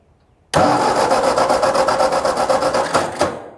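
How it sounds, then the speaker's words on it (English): A tractor engine cranks over in a sudden loud burst that runs steadily for about three seconds with a brief dip near the end, close and without voices. "So we're checking for spark."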